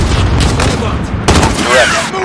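Gunfire bursts in the Call of Duty Modern Warfare campaign's Embassy mission, dense loud shots layered with battlefield noise and a brief radio-style voice, a sharper volley near the middle.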